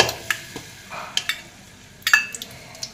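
Jaggery, one bowl of it, melting in a pan while a spoon stirs it, giving soft scraping strokes and faint sizzling in irregular bursts, close and fairly quiet, with no voices.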